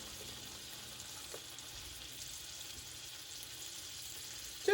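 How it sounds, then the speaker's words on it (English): Cabbage rolls sauteing in a pan give a steady, faint sizzle and frying hiss throughout, with a small clatter right at the end and no talking. "Just saute them each side about a minute or two."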